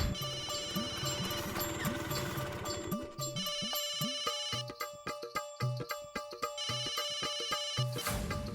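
A phone ringtone plays repeatedly in a looping electronic melody, steady and fairly close, with no voices over it.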